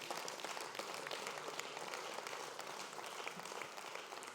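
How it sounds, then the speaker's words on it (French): A union congress audience applauds, steady dense clapping heard at a moderate distance, continuous and without speech for the whole stretch. "applaudissez-les"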